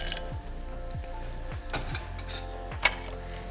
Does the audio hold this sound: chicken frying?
yes